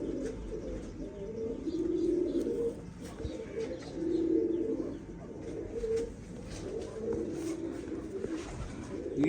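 Pigeons coo softly in repeated low, rolling phrases, with occasional chirps and a steady background hum.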